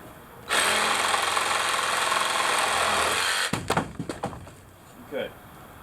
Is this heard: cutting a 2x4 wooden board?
yes